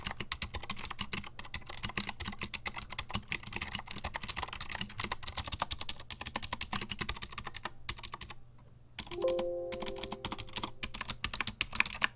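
Rapid, continuous typing on a mechanical keyboard with PBT keycaps, keys clacking as they bottom out, close and crisp, with a brief pause near the end.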